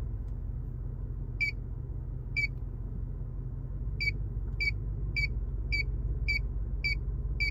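Backup parking sensor on a 2021 Chevy Silverado pickup, beeping in short high chirps that come closer together, clear over a steady low idle rumble.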